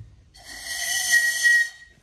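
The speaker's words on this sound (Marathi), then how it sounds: "शंख फुकायचा" A conch shell is blown once at Dhavalgad fort during a trek, a single loud, reedy, whistle-like blast of about one and a half seconds that swells and then cuts off.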